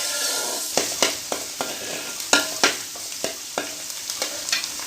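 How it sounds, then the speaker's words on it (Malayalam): Ingredients for prawn pickle sautéing in a pan, giving a steady, close sizzle broken by repeated scraping stir strokes at an uneven rhythm, with no talking. "കുറച്ച് നേരം വഴറ്റണം."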